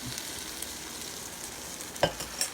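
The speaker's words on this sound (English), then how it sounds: "So now is the time to add our scrambled eggs." Eight scrambled eggs fry in a pan with potatoes and sausage, producing a steady, soft sizzle throughout, with a few light clicks of a utensil toward the end and no voices.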